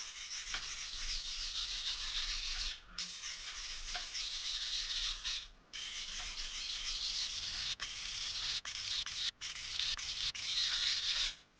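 A kitchen knife is drawn back and forth over a wet whetstone, producing a steady gritty scraping in long continuous strokes with a few brief pauses, close and fairly loud with no voices.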